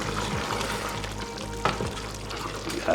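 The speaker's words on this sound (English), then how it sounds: "Gonna give it a quick stir." A pot of lamb curry bubbles and sizzles steadily while a spoon scrapes and stirs through the thick gravy, with a couple of sharper knocks against the pot, close and without talk.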